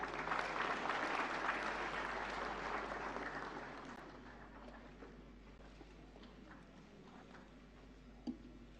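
Loud applause at an award ceremony as Kishwar Desai receives the Swarna Kamal on stage; full clapping at the start that gradually thins and fades, with a lone sharp clap near the end.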